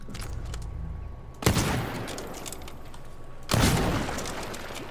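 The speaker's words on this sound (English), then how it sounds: "I think I'm safe to shoot them with my guns" Gunfire from the player's guns in the stealth action game Dishonored 2, two loud sharp bursts spaced about two seconds apart, each trailing off into a lingering rumble over low game ambience.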